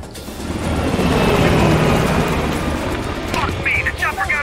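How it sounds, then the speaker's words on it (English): A helicopter in the Call of Duty Black Ops Cold War Cuba mission roars loudly with dense rotor and engine noise that holds steady, then thins slightly as it pulls away, with shouted voices and bursts of game effects near the end. "The chopper got away!"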